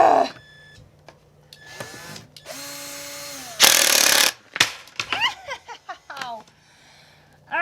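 A cordless power drill with a dying battery whirs in short bursts, revving up and winding down with a straining motor, between bright clanks and brief exclamations, while building a chick brooder.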